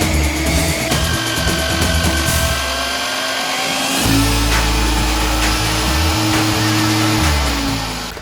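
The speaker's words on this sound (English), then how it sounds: "we got this heavy drill up here" A heavy magnetic drill bores into a steel I-beam during a soft-story retrofit, its loud steady motor whine and grinding cut running continuously up close, with the pitch dipping as the bit bites and then recovering.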